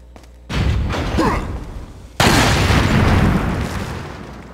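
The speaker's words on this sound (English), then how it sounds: "They survived the explosion?" A video game explosion booms, a loud rumbling blast that rises sharply and then sustains a dense roar, following an earlier swell of noise.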